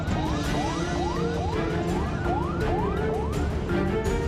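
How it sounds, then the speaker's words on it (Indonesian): A wailing ambulance siren from a community health centre ambulance repeats in fast rising sweeps with rumbling traffic underneath, close and continuous. "Meski sirine telah berbunyi tanda meminta prioritas jalan"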